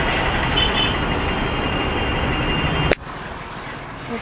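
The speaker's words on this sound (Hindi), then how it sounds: "ये देखो यहाँ की लोकल बसेस। अभी भी हम लोग ट्रैफिक में ही है।" Local buses and city traffic rumble loudly and continuously from a scooter on the road, with engine drone dominating before an abrupt drop to quieter background traffic.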